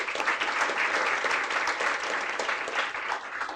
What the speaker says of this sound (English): a round of applause for all the people who pitched